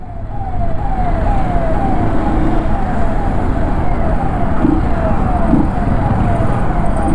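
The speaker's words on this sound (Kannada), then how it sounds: "ಆಂಬ್ಯುಲೆನ್ಸ್ ಬರ್ತಿದೆ" An ambulance siren passes in traffic, heard from a moving motorbike. Its repeated rising wails sound over heavy, constant road and wind noise.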